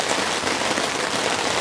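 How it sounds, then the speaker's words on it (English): Heavy rain pours hard onto a tent, a dense, loud, unbroken hiss of drops drumming on the fabric with no letup. "And it is absolutely pouring down. This is what I wanted, heavy rain."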